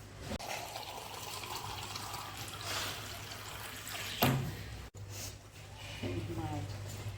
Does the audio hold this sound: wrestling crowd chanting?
no